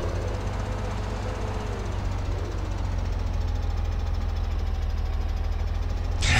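A tractor engine in the video game Farming Simulator 17 drones steadily and loudly at a low, rumbling idle-like pitch throughout, with a brief rise at the very end.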